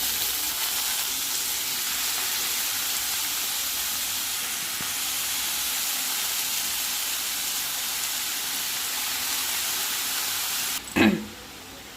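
Cabbage, peas and potatoes frying in a pan, a steady, loud sizzling hiss that runs nearly unbroken, with a brief clatter of stirring close to the end.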